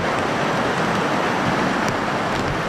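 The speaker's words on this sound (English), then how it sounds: "This churning waterfall is the upper stream of Sha Tin Shingmun River. Torrents of water gush down the hill with water splashing high." A churning waterfall on the upper Shing Mun River in Sha Tin, Hong Kong, during a black rainstorm, with torrents gushing down a hillside as a steady, dense roar of rushing water that never lets up.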